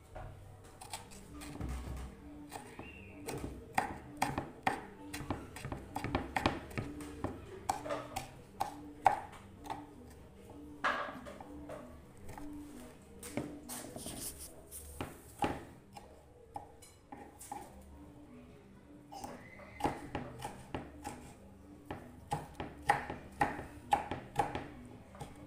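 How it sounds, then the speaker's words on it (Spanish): A knife chopping food, a steady run of quick, light taps that keep going the whole time, close and fairly soft, with no voices over them. "Vamos a ir picando."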